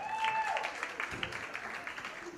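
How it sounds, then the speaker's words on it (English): Faint, steady applause from an audience at a comedy show, a soft patter of many hands with a few louder claps, heard at a distance. "Big round of applause for Happy Chase and Adocha Smigade."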